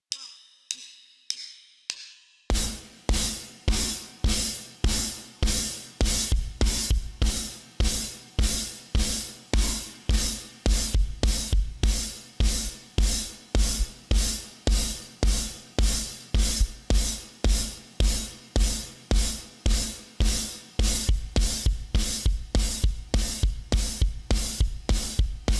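A drum kit plays the last chorus of a song in a steady, driving rock pattern. Crisp, loud cymbal hits and punchy kick and snare start after a few sparse opening hits, with no talking.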